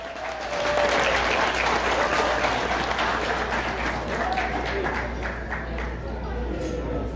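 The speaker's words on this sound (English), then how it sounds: "let's give a round of applause for the bride and groom" Guests at a wedding reception in a restaurant applaud the bride and groom, a dense, steady wash of many hands clapping that swells early and holds, with cheers and voices mixed in.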